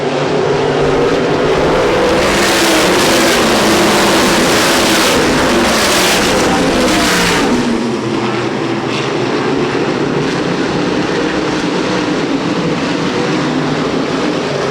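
USAC National Sprint Cars race nose to tail around the oval at Winchester Speedway in 2010, a loud, continuous engine roar with rising and falling surges as the pack sweeps past.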